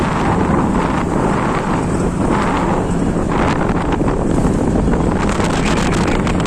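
Steady roaring wind buffets the microphone over a low motorcycle engine rumble, a continuous rush as the bike moves along at about 40.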